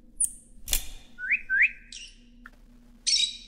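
A robin gives several short, high chirps and whistled notes in separate bursts, close and clear over a faint low background hum.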